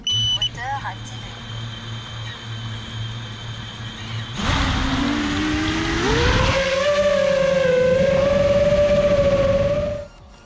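An EMAX Hawk Pro 6S FPV drone sits close by in a field while a few short electronic tones play. Its motors then spin up into a loud, rising whine that holds for several seconds and cuts off near the end.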